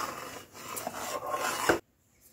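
Payesh, a Bengali rice pudding of milk and rice, is stirred in a pot with a spoon, giving a rough scraping rub of about two seconds that stops abruptly into near silence.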